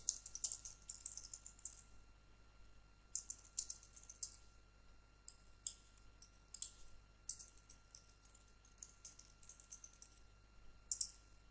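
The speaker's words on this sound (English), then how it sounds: "So let's just type in some content here just to show you how this works." Someone types text into a WordPress editor on a computer keyboard, producing quick, light keystroke clicks in bursts with brief pauses, close and fairly quiet.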